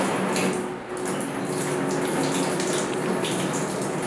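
Water runs steadily and close by while feet are washed for wudu, a continuous tap-like splashing flow with no talk, dipping briefly before resuming.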